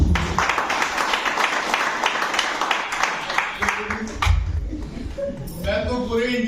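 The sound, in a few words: audience applause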